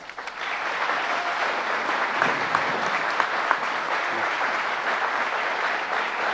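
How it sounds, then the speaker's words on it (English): An audience in Rochester gives the New York governor a warm round of applause, dense steady clapping that holds at full strength throughout with no talk. "Please give him a warm round of applause."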